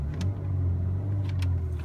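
An MG HS SUV's engine being revved while parked, a muffled, steady low hum with a smooth rising drone, heard from inside the quiet cabin with a few faint clicks and no speech.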